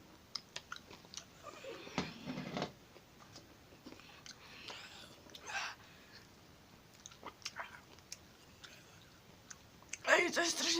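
Someone bites into and chews a chili pepper, with close, soft crunching and wet mouth sounds mixed with faint whispers and breaths.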